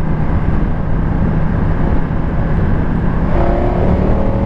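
Ducati Diavel 1260 S motorcycle engine pulling hard under acceleration, a loud continuous roar with wind rush throughout and a rising tone near the end.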